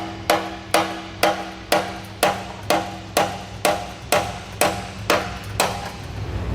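A metal-headed hammer tapping a clamp during a Curt trailer hitch receiver installation on a 2012 vehicle, about a dozen evenly spaced ringing metallic taps, close and alone.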